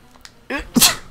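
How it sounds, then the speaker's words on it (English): A single sharp sneeze from a person, a brief inhaled build-up followed by an explosive burst, loud and close, with quiet game sounds faintly behind it. "Oh, I'm gonna sneeze."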